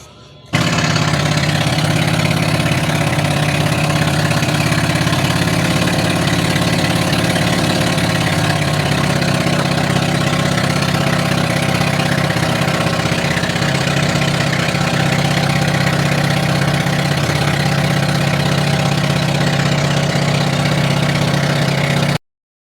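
A motorboat engine drones steadily during a boat ride, a loud, continuous low hum and rumble that holds unchanged for the whole stretch after a sudden start.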